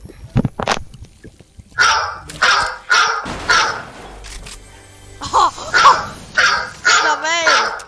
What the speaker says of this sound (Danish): Jeg kan bare få min hund til at gøre instant.